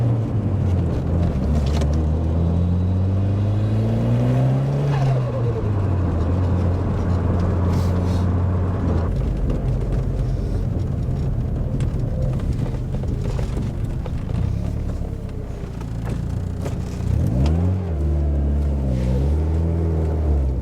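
A loud engine revs up and down repeatedly, pitch rising and falling as a car spins around in a car park, close by and continuous.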